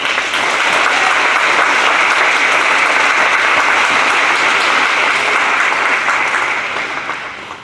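Sustained, loud applause from a school audience for the girls' and boys' track teams at an academic awards presentation, a dense even roar of clapping that holds steady for several seconds before easing off at the end.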